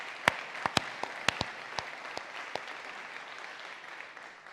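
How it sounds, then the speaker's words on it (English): Conference attendees give a round of applause for leadership at a T20 Argentina summit, a broad bed of clapping punctuated by several sharp, close individual claps early on, then softening steadily. "So can we give them an incredible round of applause,"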